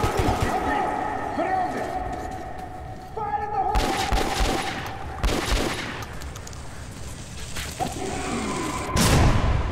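Grenade blast and bursts of gunfire in the video game Metro Last Light, loud and close, with booms, rapid shots and whooshes layered under shouted voices throughout.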